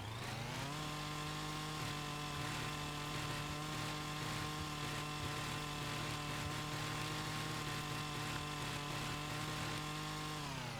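A chainsaw in Farming Simulator 25 delimbing a felled tree, held at a steady, loud, droning buzz for the whole stretch with no talking.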